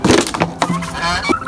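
Chicks and other poultry cluck and chirp in a backyard pen at a small home zoo, a steady run of close, fairly loud calls with a few sharper squawks.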